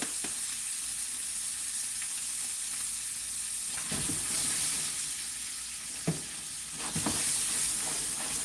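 A steak sears in a hot pan with garlic added alongside it. A steady, close frying sizzle runs throughout, with a few brief clinks and scrapes rising above it.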